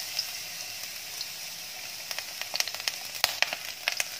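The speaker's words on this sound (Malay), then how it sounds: "dah masukkan minyak. Kita masukkan bawang putih yang telah dicincang." Minced garlic frying in hot oil, a close steady sizzle with scattered sharp pops and crackles growing busier toward the end, no talk.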